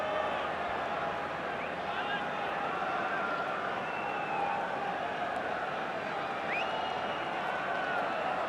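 Steady crowd applause rolling across a stadium during a British Lions rugby test match in South Africa in 2009, a continuous distant wash with a commentator talking over it.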